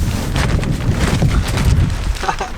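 Strong wind buffeting a tarp tent, with loud low rumbling gusts and flapping rustle pressing close against the microphone in uneven surges throughout.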